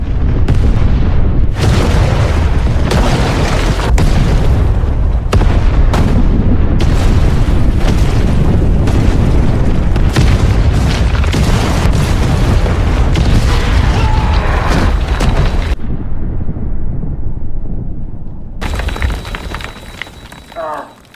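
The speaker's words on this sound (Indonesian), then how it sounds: "Om John kemudian meledakkan terowongannya" A loud, sustained film explosion of a tunnel being blown up rumbles through heavy low-end roar with crashing debris, cut by abrupt breaks before fading into quieter rumble.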